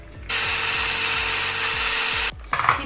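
An electric hand mixer beats revani batter with vegetable oil in a small bowl, a loud steady whirring drone that starts abruptly, runs for about two seconds and then cuts off.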